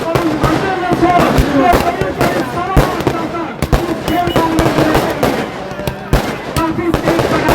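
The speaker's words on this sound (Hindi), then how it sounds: "काफी तेज पटाखे चारों तरफ एक हंगामा था।" At a state-level cricket tournament final, strings of firecrackers go off continuously, loud crackling bangs rattling in fast uneven bursts over a noisy crowd, with someone speaking beneath.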